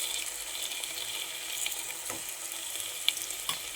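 Ginger garlic paste frying with green chilies and curry leaves for paneer biryani, a continuous close hiss of hot oil with a few faint utensil taps.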